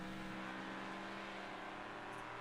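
Race cars in the Wreckfest video game at Pinehills, engines droning and revving steadily and loudly throughout, a dense continuous roar with no talk.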